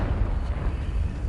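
A Confringo explosion spell cast in a PS4 game gives a deep, rumbling blast that rolls on with a low, sustained roar, moderately loud with no voice over it.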